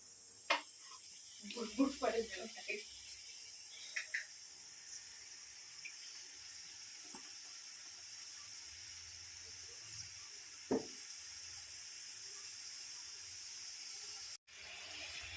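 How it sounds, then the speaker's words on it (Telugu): Kajjikaya, sweet dumplings, deep-frying in boiling oil: a steady, faint hiss and sizzle runs throughout, broken by a few soft pops and bubbling spurts, with someone talking now and then. "చూసారు కదండి ఎలా ఫ్రై అవుతున్నాయో"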